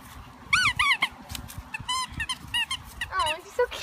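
A small female dog on holiday in Wales gives a run of high, whiny squeaks, close by and fairly loud, in quick bursts of two or three with short pauses over low background noise.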